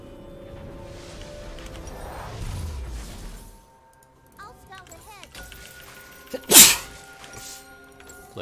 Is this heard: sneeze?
yes